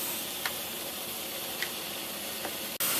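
Steady, dense sizzling hiss of chilaquiles verdes frying in a pan, with a few faint ticks and pops scattered through, no voices.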